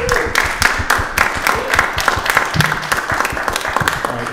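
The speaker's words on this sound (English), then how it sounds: "quick round of applause" A small audience claps for a presenter at a multichannel music workshop, an uneven patter of individual hands close by, steady for a few seconds without voices.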